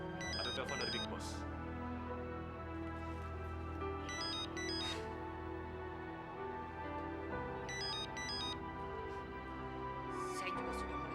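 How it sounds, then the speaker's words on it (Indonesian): A telephone rings in repeated electronic ringtone bursts, fairly loud and under a steady music bed, in an Indonesian TV drama scene. "Ada telepon dari Big Boss."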